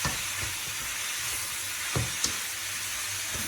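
Cooked spaghetti and vegetables are tossed in a hot pan, giving a steady sizzle under scattered soft scrapes and clanks of utensil on pan, fairly close, with no talking.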